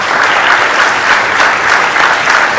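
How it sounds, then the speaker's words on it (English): Applause from a panel discussion audience, dense and steady, fills the whole stretch at close, loud level with no voices over it. "So can we get a round of applause for these great people?"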